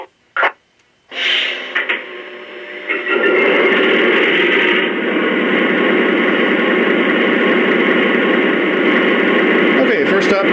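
A Lionel Fairbanks-Morse H-16-44 model diesel locomotive starts up with a few short clicks, then settles into a loud, steady whirring, buzzing drone that holds to the end, with a short click at the close.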